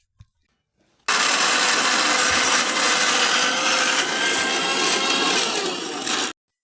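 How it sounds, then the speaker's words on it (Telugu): An electric mixer grinder blends ginger and garlic with salt into a paste, starting abruptly after a brief clink and running loudly and steadily for about five seconds before cutting off. "మిగిలిన అల్లం వెల్లుల్లిపాయలను మళ్ళీ మెత్తగా గ్రైండ్ చేసుకోవాలి"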